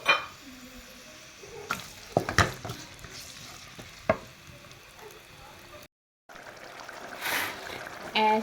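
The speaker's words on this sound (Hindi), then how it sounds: "ऑयल गर्म होने का वेट करेंगे। टमाटर, मिर्चें, प्याज" Tomatoes, chilies and onions hit hot oil in a pan for an aloo mattar sohajna dish, giving a steady soft sizzle with scattered stirring clacks and clinks, fairly close and with no talking.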